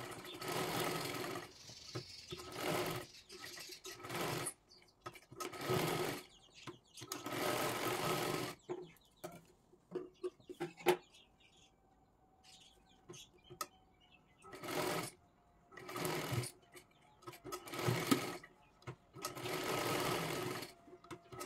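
A sewing machine double-stitching a blouse seam, running in repeated bursts of rapid stitching separated by short pauses, close and moderately loud, with quiet speech in the gaps.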